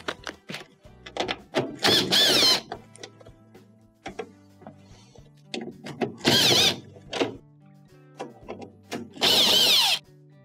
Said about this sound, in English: There are 3 Phillips screws that will have to be removed to take off your console cover.